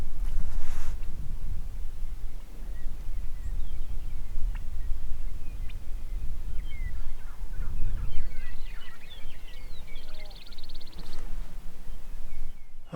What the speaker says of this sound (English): turkey just gobbled up on that hill